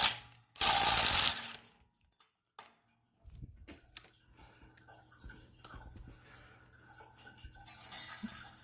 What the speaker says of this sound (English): you can go back with the impact driver in order to release the rest